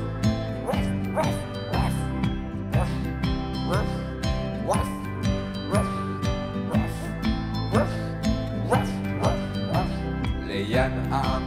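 Playful dog-bark sounds in a bouncy French children's song about a little dog, repeated in steady rhythmic bursts over bright, full music with a sung, likely imitated, woof pattern.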